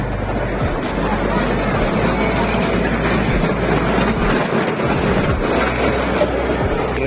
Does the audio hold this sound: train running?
yes